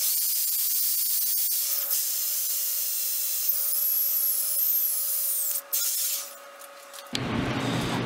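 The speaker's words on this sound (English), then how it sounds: "Let's get this drilled." A D-guard for a Civil War style Bowie knife being drilled, a steady loud hissing whine from the tool that holds for several seconds, shifts pitch, then cuts out near the end.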